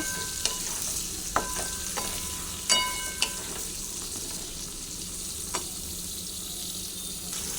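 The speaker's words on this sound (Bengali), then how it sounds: "ভালো করে পটলটা লাল করে ভেজে নেব" Pieces of pointed gourd (potol) fry in hot oil in a pan, giving a steady close sizzle with occasional sharp clinks and scrapes of a spatula stirring, without any talk.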